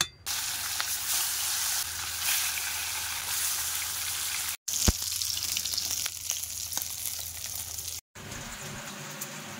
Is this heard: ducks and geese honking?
no